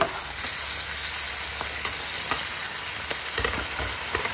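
Washing water poured into a pan of pointed gourd and curd, sending up a loud, continuous frying hiss and bubble close by with occasional crackles and stirring clicks, no voices.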